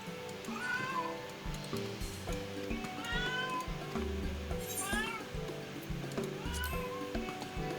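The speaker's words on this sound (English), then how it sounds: "Our cat, one of our cats, has decided to join us." A house cat meows repeatedly in a series of rising, drawn-out calls close by, mixed with people talking and background game music.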